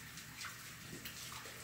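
Cold water runs from a kitchen tap in a short, steady, soft gush, heard alone at a low level.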